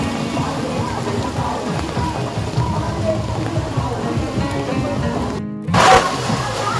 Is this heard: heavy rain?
yes